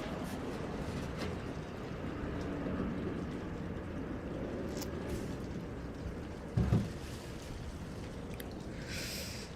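A train passes outdoors as a steady low rumble lasting throughout, with a brief louder clank partway through and some higher hiss near the end.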